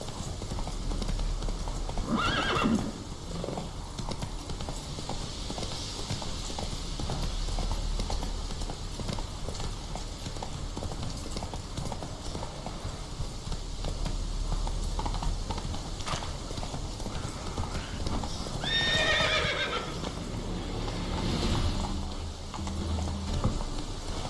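A horse gallops in The Witcher 3: Wild Hunt, with steady rhythmic hoofbeats over a continuous rushing ambience and a couple of whinnies along the way.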